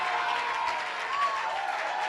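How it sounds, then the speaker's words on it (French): A church congregation at an Easter gathering applauds in a continuous wash of clapping and cheering, steady and moderately loud with voices blended in. "Est-ce qu'on peut donner une acclamation pour lui?"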